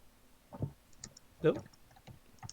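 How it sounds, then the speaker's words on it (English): Soft, scattered clicks of computer keyboard typing come in irregular bursts through an online voice chat, faint and intermittent. "I can hear you typing."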